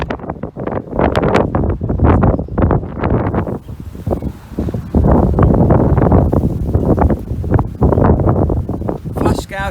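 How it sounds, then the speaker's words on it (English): Strong wind gusts buffet the microphone on the North Promenade sea defence wall at Heacham, Norfolk. The roar is loud and uneven, with surging bursts throughout and a voice briefly at the very end. "we're getting a bit sandblasted because it's so windy today."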